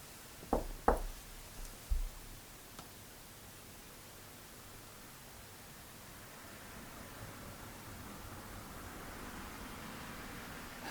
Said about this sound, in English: Getting a fair few knocks now.